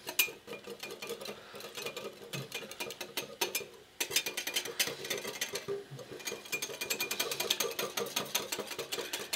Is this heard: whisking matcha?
yes